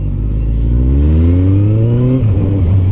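A motorcycle accelerates hard while a rider holds a wheelie, its engine note climbing steadily in pitch as speed builds, loud and close, before a brief shift and dip near the end.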